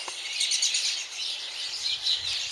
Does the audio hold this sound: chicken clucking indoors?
no